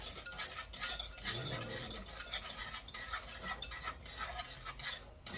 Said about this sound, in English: I'm just going to go ahead and mix this together for a second